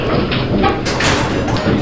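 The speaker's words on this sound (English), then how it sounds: "Doors closing." Lift doors slide shut in a short, loud, rushing whoosh with a soft thud, heard up close inside the lift car.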